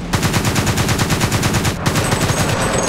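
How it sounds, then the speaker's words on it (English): Rapid, steady gunfire from a tank gun in War Thunder, a Japanese ground-forces tank firing a fast repeating burst of loud, evenly spaced shots with one brief break, no voices over it. "Gun sounds fantastic as well."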